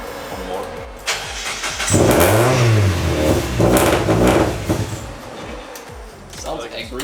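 A 1990s-style Mazda Miata roadster with a suspected idle control fault revs its engine in a couple of rising and falling surges, close and loud, with voices talking over parts of it.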